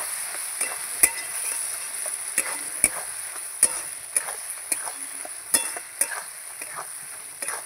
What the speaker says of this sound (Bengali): মাংসটা আবার নাড়িয়ে চাড়িয়ে দেবো